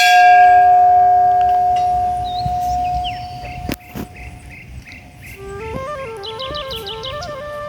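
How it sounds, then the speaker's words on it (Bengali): A temple bell at a shrine in Tripura rings with a long, sustained tone that slowly fades. A sharp knock follows, then warbling electronic tones rise and fall. "ঘন্টাটা একটু বাজায় দিই।"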